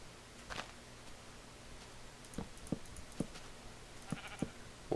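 Sheep in Minecraft bleat in a series of short, faint game calls spaced through the stretch, set against a quiet, low ambient background.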